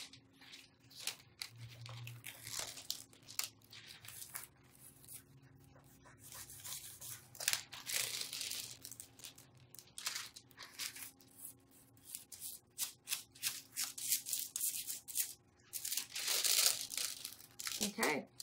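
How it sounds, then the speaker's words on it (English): Foil gets handled and crinkled in bursts of crisp rustling and crumpling during a craft project, close and fairly quiet, with pauses between handlings. "just lay that piece of foil right back down"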